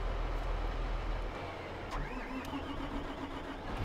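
Tractor or farm vehicle engine idling in Farming Simulator 22, a steady mid-pitched rumble running throughout with a brief mechanical chime over it, no talking.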